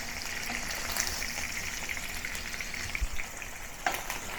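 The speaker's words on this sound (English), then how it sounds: "it is always much better to deep fry the pork rib first before braising the pork ribs" Pork ribs deep fry in a pan of hot oil, a steady dense sizzle and bubbling that holds at an even, close level throughout with a few small pops, and no voices.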